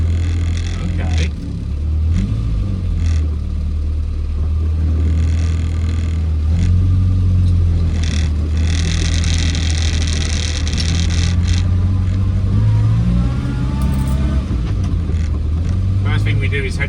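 A Morris Minor on its first drive after brake shoe adjustment with new drum shoes, heard from inside as a steady low engine rumble that rises and falls with revving, with faint talk over it.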